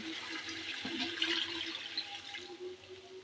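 Broth poured into a pot of fish and pointed gourd curry, a steady liquid splashing and trickling that runs throughout, fairly close and continuous, with no talk.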